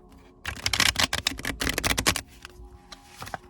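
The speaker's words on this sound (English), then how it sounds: "that was an interesting shuffle" A deck of Little Prince tarot cards is shuffled by hand, producing a dense burst of rapid crisp riffling clicks up close, then a few scattered taps.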